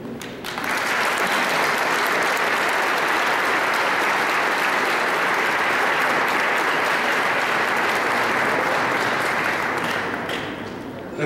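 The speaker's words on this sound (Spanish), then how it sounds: "Y eso que merece un aplauso" A crowd at a ceremony for Iztapalapa's Semana Santa heritage recognition bursts into applause for the organizing committee, swelling quickly into a dense, even roar of clapping that holds for about ten seconds before easing off.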